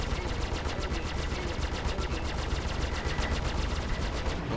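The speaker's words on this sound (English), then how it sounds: "a few more shots here" Rapid automatic gunfire in the space combat game Star Citizen, a dense continuous stream of shots, loud and steady throughout with no voices.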